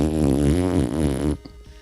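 A voice imitating a fart while saying a name, a buzzy, lip-flapping blurt close to the microphone lasting just over a second, then a brief quiet tail.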